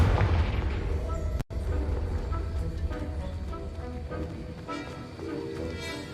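A Confringo spell blast in the Hogwarts video game lands as a booming, explosive burst up close, followed by a rumbling tail and scattered game effects, with a voice speaking over the start.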